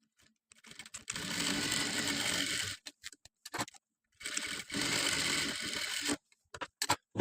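A sewing machine runs a double stitch through fabric in two fast, steady bursts, each a couple of seconds long, separated by short pauses and clicks of handling, close and fairly quiet.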